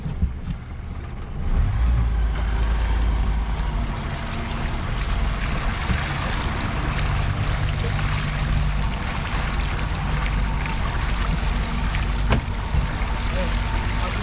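A small fishing boat's outboard motor is eased into gear on the Black Sea while bonito fishing, giving a steady low rumble with water wash that runs throughout at moderate loudness.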